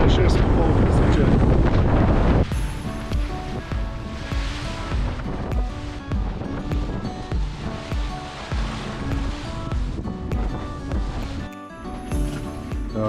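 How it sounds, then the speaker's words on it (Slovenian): A strong storm wind of around 40 knots roars at sea around an anchored catamaran off Croatia, a loud continuous rush of wind noise with crashing waves and steady gusting throughout. "Tam se vidi, kako zunaj piha, so valovi."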